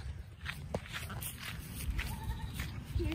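Goats bleat a few times at close range amid rustling and footsteps, with light background noise around them.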